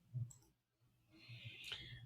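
A mouse click on an on-screen Install button during a Python 3.13 setup on Windows 11, one faint short click with low room hum around it, no talking.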